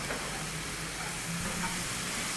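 Mushrooms fry in heated honey and oil, giving a steady, dense sizzle that stays close and even throughout, with no voices over it.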